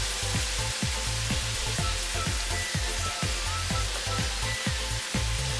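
Kale and collard greens with caramelized onions sizzle loudly and continuously in a hot pan, with a steady hiss over a regular series of soft low thumps.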